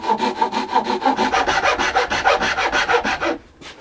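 Wood being hand-sawn at an angle to shape a mould, a steady run of rhythmic back-and-forth rasping strokes up close that stops abruptly near the end.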